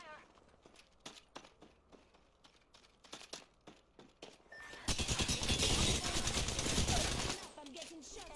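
Apex Legends gunfire: scattered single shots and short bursts at first, then a loud, dense stretch of sustained automatic fire and impacts before it drops away, with game voices speaking in places.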